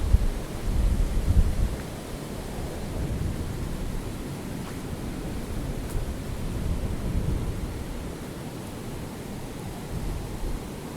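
Steady broadband rain hiss from a storm across a river in the Amazon, with a low rumble of distant thunder, heavier in the first couple of seconds, continuing evenly throughout with no voices.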